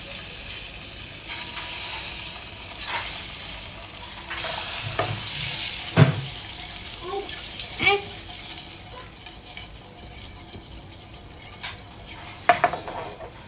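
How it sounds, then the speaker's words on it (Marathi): Eggs cracked into a pan of hot oil with turmeric masala, frying with a steady soft sizzle, punctuated by a few sharp clinks and scrapes of a spoon against the pan, close and moderately loud. "हे मस्त ह्याला फ्राय होऊन द्यायचं आहे आपल्याला."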